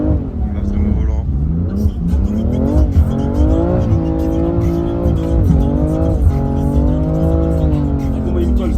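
A BMW M3 drives on snow with its engine loud and close throughout, revving up and down in repeated rising and falling sweeps as it slides along, with no voice over it.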